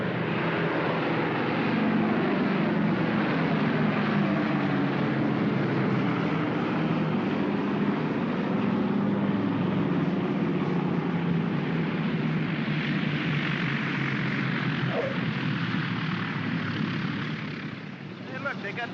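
A propeller airliner with full flaps touches down on a runway, its steady loud engine drone filling the scene throughout, and people talk over the constant roar.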